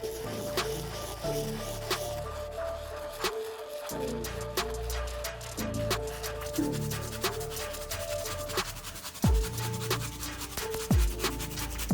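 Stiff bristle brush scrubbing dirt off the outsole of an Air Force 1 sneaker, close, continuous rough rubbing strokes with a few sharper scrapes and brief pauses.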